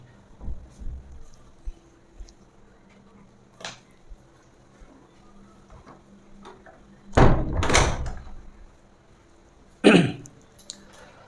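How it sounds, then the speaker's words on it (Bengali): A few sharp door bangs and rattles as the door knocks in the wind during heavy rain, spaced irregularly, with one louder double thump and a later bang against a quiet background. "দরজা বারবার সাউন্ড করতেছিল, আমরা লক করে দিচ্ছি"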